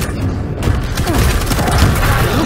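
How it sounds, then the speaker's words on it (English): A gunshot blast from a player turning the weapon on himself in the arena shooter Quake Champions, loud and booming amid continuous game noise and clatter. "Better shoot myself in the chest."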